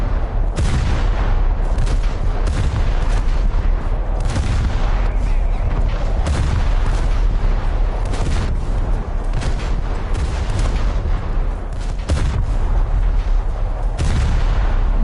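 Artillery rounds landing in War Thunder: repeated heavy booms and blasts arriving in irregular succession over a dense, constant rumble of gunfire, loud throughout.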